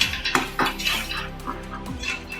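Chopped tomatoes sautéing in a pot for chicken biryani, with a soft oily sizzle and repeated metallic clinks and scrapes of a spoon stirring against the pot, close and fairly loud.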